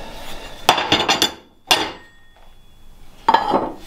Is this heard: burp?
no